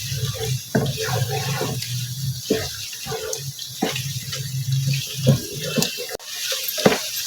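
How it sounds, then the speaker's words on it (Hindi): Water poured into a pan of frying beef masala, a steady hissing splash with scattered crackles and spits throughout, moderately loud and close. "इसमें मैं थोड़ा सा पानी भी ऐड कर रही हूँ ताकि ये अच्छी तरह से भून जाए"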